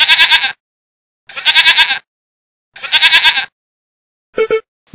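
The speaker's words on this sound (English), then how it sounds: "Goat." A goat bleats three times in long, loud, wavering calls separated by pauses, followed by a shorter, clipped fourth bleat, each heard clearly and alone.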